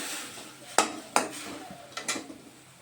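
Jaggery melting with a little water in a pan while a utensil stirs it, producing a few sharp metallic clinks and scrapes against the pan, spaced irregularly over a quiet background.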